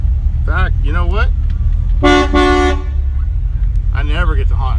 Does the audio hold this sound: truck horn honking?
yes